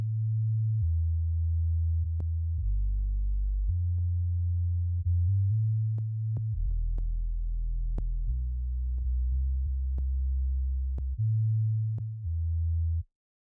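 Low synth bass mix with two bass layers, one pushed right and one left by a stereo panning plugin, heard before and after the subtle spread; steady sustained low notes changing pitch, with clicky transients, no talking.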